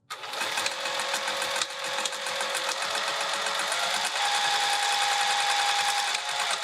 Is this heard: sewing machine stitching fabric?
yes